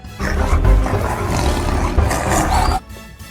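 A plastic toy plays a recorded leopard roar, loud and growling, lasting about three seconds before cutting off abruptly.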